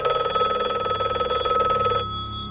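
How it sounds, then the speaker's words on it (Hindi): Landline telephone in a residential quarter ringing with a steady electronic trill for about two seconds, loud and close, then cutting off abruptly, with no voices. "वो लैंडलाइन फ़ोन अचानक से बजने लगा।"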